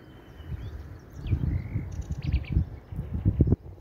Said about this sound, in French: Il y a plein d'oiseaux, c'est vraiment incroyable.